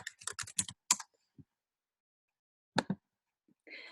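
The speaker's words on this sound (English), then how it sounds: "When you're offline, you type in your net ID, just like you log on your email." Someone types a net ID on a computer keyboard, a quick burst of close key clicks followed by a pause and a few more isolated taps.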